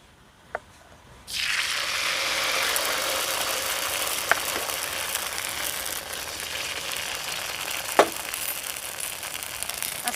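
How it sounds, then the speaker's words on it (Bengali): Batter sizzling as it fries in a little oil in a pan, a steady loud hiss that starts abruptly and holds, broken by a few sharp clicks and taps of a utensil. "ঠিক একইভাবে আবার একটু অল্প তেল দিয়ে দিচ্ছি একইভাবে আবারও দু ডাবো ব্যাটার দিয়ে দেবো"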